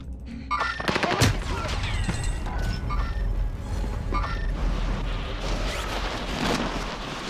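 Rapid bursts of automatic gunfire from several directions in a Call of Duty Warzone match, loud and dense with overlapping shots and booms throughout.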